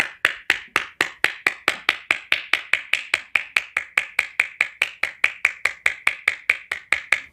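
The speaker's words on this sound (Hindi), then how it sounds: "तो चलिए बिना किसी देरी के ताली बजाते हैं।" Hands clap in a steady, fast rhythm, roughly four sharp claps each second without a break, crisp and close, done as clapping therapy.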